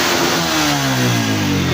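A 2020 Honda CG125 motorcycle with a sluggish throttle, a misfire and a non-original plug cap runs close by, its engine note rising steadily as it revs, loud and unbroken, with no talking.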